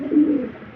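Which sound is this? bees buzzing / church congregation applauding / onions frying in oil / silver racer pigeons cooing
silver racer pigeons cooing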